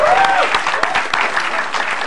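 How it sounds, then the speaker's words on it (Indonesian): Audience applause at a stand-up comedy show, a dense, steady wash of many hands clapping throughout, close and loud, with no talk over it. "Tepuk tangan buat Bang Semi Notas Limbon."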